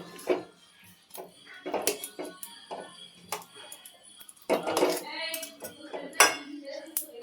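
Metal lid set back onto a cooking pot with sharp clanks and clinks of utensils, a run of irregular metallic knocks and scrapes against a quiet kitchen background.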